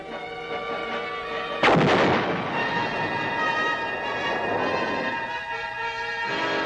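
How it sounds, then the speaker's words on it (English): Heavy mobile artillery guns fire during Vietnam War operations: one loud, sharp boom lands partway through, followed by a long rumbling roar that slowly fades over a constant background drone. "The big mobile guns continued to do their share in dispersing the enemy."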